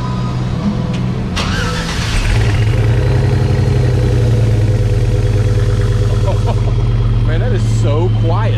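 The boosted V8 engine of a 1968 Chevrolet C10 shortbed truck with mufflers rumbles at a steady, low idle after starting, deep and muffled, with someone talking over it near the end.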